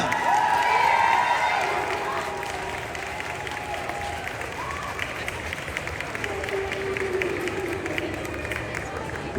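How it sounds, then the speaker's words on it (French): Dense, sustained audience applause with cheering and crowd babble at a Paris Manga & Sci-Fi Show convention panel, steady and enveloping throughout. "je vous demande un tonnerre d'applaudissements pour Joe Flanagan."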